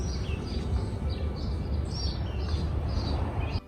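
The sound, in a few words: birds chirping outdoors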